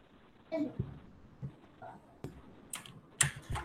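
Quick bursts of keyboard typing, a handful of clacky keystrokes scattered irregularly, fairly close, with faint talk in the background.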